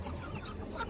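Several farm chickens cluck softly and close by in a short burst, with low murmuring noises from the flock.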